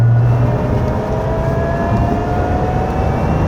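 A Lotus Emira V6 sports car engine with an Edelbrock supercharger drones loudly from inside the car, a thin supercharger whine rising gradually above the rumble as revs climb.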